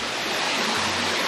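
A mountain valley stream flows near a two-tiered waterfall on a summer hiking trail to Wongak Falls on Sapaesan, in Bukhansan National Park; the water gives a steady, full rushing hiss without interruption.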